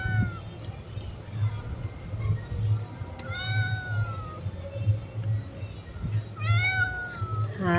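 A cat meows repeatedly and insistently, rising and falling cries coming in bursts over a low background hum, while bread and milk heat nearby.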